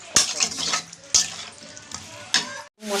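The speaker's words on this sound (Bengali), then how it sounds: "দিয়ে মশলাটা আবার ভালো করে কষিয়ে নিই" Spice paste, egg, cauliflower and peas are sautéed in a pan: a soft sizzle under a few sharp metallic clanks of a spoon against the pot, with stirring scrapes between them.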